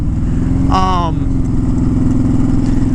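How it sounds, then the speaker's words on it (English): A Honda Fury motorcycle engine runs loud and steady while engine braking, with a dense throbbing rumble close by and a brief rising whine partway through. A voice briefly speaks over it. "Engine braking, nice and smooth. A little bit of backfire there."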